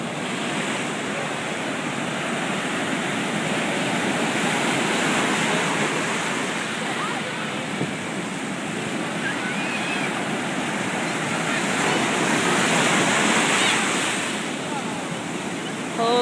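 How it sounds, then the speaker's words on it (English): Rough surf at Robert Moses Beach makes a continuous loud roar of crashing waves, with wind buffeting the microphone and surges swelling and easing across the whole stretch. "waves are out of control today."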